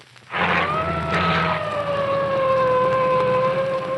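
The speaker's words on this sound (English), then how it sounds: "3 big trucks with police escort, sirens wide open, are rolling through the picket lines." A single police siren wails loud and steady after a brief quiet start, its tone sliding slowly downward as it holds, with trucks under police escort rolling through picket lines.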